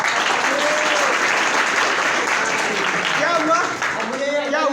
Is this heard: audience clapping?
yes